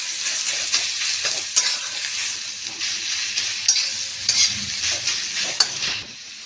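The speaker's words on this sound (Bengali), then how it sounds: "এবার এটাকে আমি ভালো করে ভেজে নেব।" Grated radish fries in a pan while a utensil stirs it in repeated scraping strokes, close up over a steady sizzle, with no one talking.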